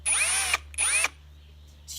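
A cordless drill with an adjustable clutch collar drives a screw in two loud, close whirring bursts of about half a second each, separated by a short pause, with a faint restart of the motor at the end.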